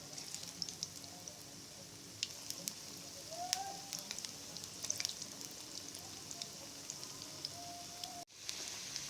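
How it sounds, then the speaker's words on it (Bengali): Cauliflower pakora frying slowly in oil over low heat, a faint, sparse crackle of scattered pops and spits close by, soft and irregular with no voices. "খুবই আস্তে আস্তে ভাজতেছি"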